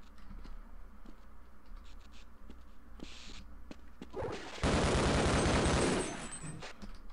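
Gunfire in the 1998 video game Half-Life: scattered sharp shots, then a loud, dense burst of firing that lasts about a second and a half before fading back to quieter game ambience.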